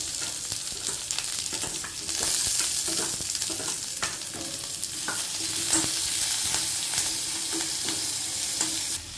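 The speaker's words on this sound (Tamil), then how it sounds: "வெங்காயம் கருவேப்பிலை பூண்டு இது கொஞ்சம் வதங்கின வச்சு தான் தக்காளி போடணும்" Onion, curry leaves and garlic sizzle steadily in a hot pan for tomato chutney, with a dense continuous frying hiss broken by scraping stir strokes, close and fairly loud throughout with no talking.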